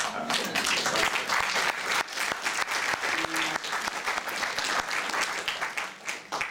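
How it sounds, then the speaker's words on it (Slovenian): An audience at a gathering honouring Pedro Opeka gives sustained, strong applause, a continuous dense clatter of many hands clapping at moderate distance with a few sharper claps standing out, steady throughout. "pozdravljali smo pa ga že itak z močnim aplavzom"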